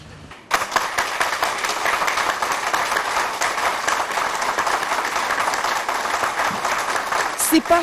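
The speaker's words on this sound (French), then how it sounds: "ces acclamations frénétiques exécutées en chœur" Crowd at a government event presided over by the Congolese head of state, clapping and cheering together in a loud sustained roar that starts abruptly and holds steady, with voices mixed in.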